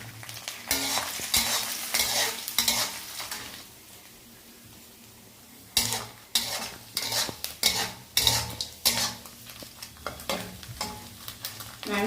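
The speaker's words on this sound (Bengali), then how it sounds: "এবার এই নারকেলটা আমরা ভেজে নেব এর ভিতরে" Grated coconut fries in a pan with cumin, dried chilli, bay leaf, cardamom and cinnamon. There is steady sizzling and repeated scraping and stirring strokes, with a quieter pause midway.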